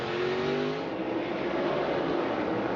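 NASCAR race cars roaring together in a heat race at the Busch Light Clash, a dense, loud engine drone with rising and shifting revs from several cars battling close by, no talk over it.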